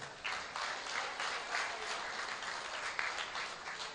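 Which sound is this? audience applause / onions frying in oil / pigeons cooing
audience applause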